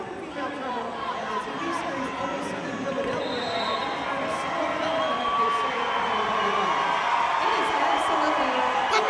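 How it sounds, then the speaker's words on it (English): A roller derby crowd cheers loudly and steadily after a scoring pass, with an excited announcer talking over the noise. The roar is dense and sustained, with whoops and chatter mixed through the arena din. "crowd is going nuts as Red Pepper continues to score"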